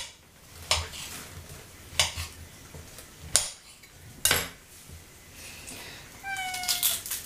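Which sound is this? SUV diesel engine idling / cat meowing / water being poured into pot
cat meowing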